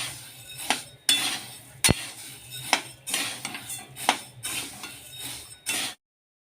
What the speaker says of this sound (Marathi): मसाला भाजण्यासाठी मी इथे सगळ्यात पहिल्यांदा धने भाजत आहे